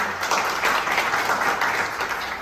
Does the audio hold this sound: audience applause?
yes